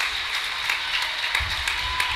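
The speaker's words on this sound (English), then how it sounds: "Whole gym standing up and applauding him." A whole gym crowd at a high school basketball game between Monterey and Jackson County stands and applauds, a dense steady roar of clapping filling the hall from start to finish.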